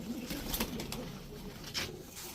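Rajshahi Giribaz pigeons cooing faintly in a loft, with low soft coos, a few sharp clicks and rustles, and one brief higher call.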